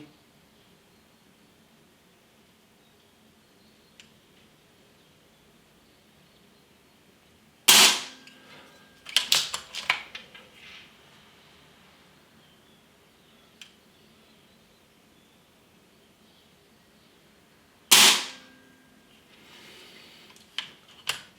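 Two sharp, snappy shots from a Snowpeak AP-1000 air rifle at full power, 42 joules, about ten seconds apart, each followed by faint clicks and rattles of handling in a quiet room.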